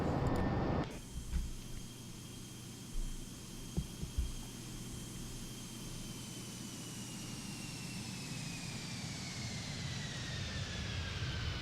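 A Boeing 757-200 passes in a flight simulator game, a broad steady jet roar with a whining engine tone sliding slowly downward as it goes by, a few soft thumps early on.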